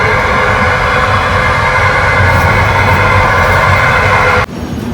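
Steady loud rumble and rattle from inside a moving train, continuous and droning, ending abruptly with a sudden drop near the end.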